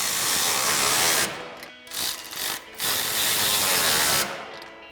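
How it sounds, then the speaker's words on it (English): Quick bursts of ratchet clicking from a 13mm socket tightening lock nuts on a Ram 2500 running board bracket, close and fairly loud, with a few short pauses between runs of clicks. "we'll come in with our 13mm socket on our ratchet and begin by tightening down our two lock nuts on our main bracket"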